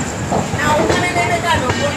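The Sealdah to Puri Duronto Express runs steadily at night, a continuous rumbling rail roar with faint rhythmic clatter, heard from inside the carriage with voices in the background.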